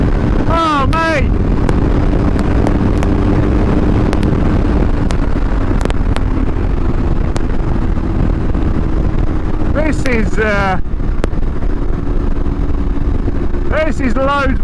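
A BMW R1150GS motorcycle engine revs up in rising bursts while being ridden, buried in constant loud wind rush, with a rider's voice talking over it.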